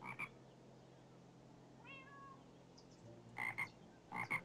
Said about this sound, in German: während wir mal kurz den Fröschen lauschen und uns ausruhen ein wenig